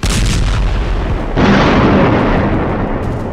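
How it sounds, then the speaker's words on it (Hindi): Israeli bombing of Gaza streets during the Israel–Hamas war: a loud, continuous roar of heavy blasts and rumbling impacts, surging sharply about halfway through and staying dense and close until the end, with no voices. "जिस वक्त गाजा की गली गली में इजराइल के बम गिर रहे हैं"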